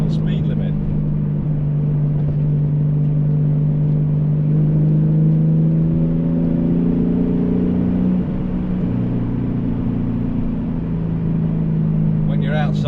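A 1995 Porsche 911 Carrera 2 GT2 tribute engine climbs toward third gear, with a loud, droning, rising engine note heard from inside the car that continues steadily throughout.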